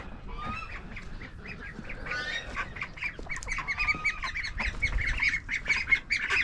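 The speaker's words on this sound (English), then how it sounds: "they're in the duck pen getting acquainted with the new ducks" Several ducks quack and chatter continuously nearby, with overlapping calls building in volume.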